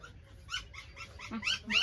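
A puppy whimpers and whines in a series of short, high, plaintive cries, close by and rising toward the end.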